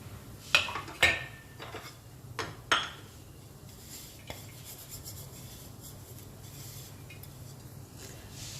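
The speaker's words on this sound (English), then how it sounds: "So I flipped it over again so that it gets nicely cooked in that clarified butter on the other side as well." Horse gram paratha cooking in clarified butter on a pan, a soft continuous sizzle with several clinks and scrapes of a utensil pressing and turning the bread early on, close and moderately quiet.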